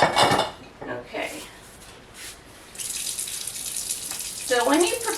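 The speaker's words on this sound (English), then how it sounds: "we're gonna wash these up real fast with some nice warm soapy water and get them ready to be put away" Used Tattler canning lids are washed in warm soapy water in a sink, with clattering dishes and metal against a steady running tap. A voice speaks briefly over the splashing.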